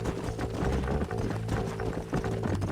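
Horse hooves clip-clop steadily in Red Dead Redemption, a busy, close rhythm of hoofbeats over a dense outdoor game soundscape with a low hum underneath.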